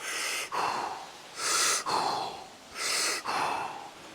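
Three slow, deep breath cycles during a guided breathing exercise: each full inhale rushes in with a broad airy hiss, then eases into a softer, longer exhale, close and steady with no talking.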